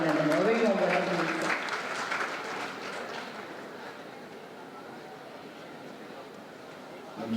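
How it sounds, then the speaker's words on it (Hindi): An auditorium audience at a Chandigarh University event claps to welcome a speaker, a loud burst of applause over murmuring in the first second or two that fades into quieter scattered clapping and room noise. "मैं चाहूंगी जोरदार ताली के साथ उनका स्वागत और अभिनंदन।"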